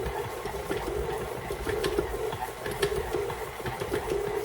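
A stand mixer with a new paddle beats Italian sesame cookie dough of butter, flour and powdered sugar, giving a steady mid-pitched motor whir with a rhythmic churning thump throughout, close and continuous.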